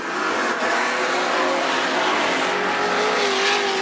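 Outlaw sedan race cars roar off at the start of a night race on a slippery Macs Speedway track, a loud continuous pack of revving engines close by with no talk over it.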